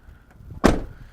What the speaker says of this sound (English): Now this screen door is quite nifty, so it slides out of the way